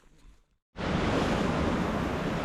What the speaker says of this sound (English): It's the force of this water and the speed that it's coming through this channel is quite incredible.